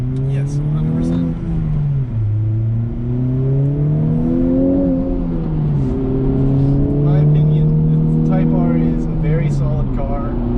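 A blue Honda Civic Type R drives and accelerates, its engine note rising and falling through gear changes in a steady, loud, close drone from start to finish.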